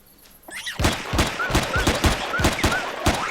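Base turrets in Empyrion Galactic Survival fire a rapid burst of about eight sharp shots in quick rhythm, loud and close, with a metallic whine between rounds and no talking.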